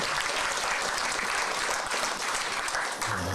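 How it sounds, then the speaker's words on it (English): Audience applause at a press conference on a homeless count, a steady, dense burst of clapping filling the room at close range with no voices over it. "Let's give them a big round of applause."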